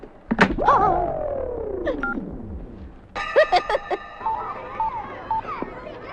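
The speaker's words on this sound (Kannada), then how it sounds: "ಫೋನ್ ಇಡಯ್ಯ" In a Kannada comedy film scene, a telephone receiver is hung up with a dull thunk, followed by a run of short electronic beeping tones, close and clear.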